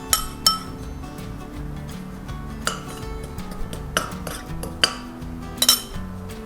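Spoon and metal clinks against a stainless steel pot as baking soda is added, several sharp taps and scrapes at irregular intervals over a quiet room tone.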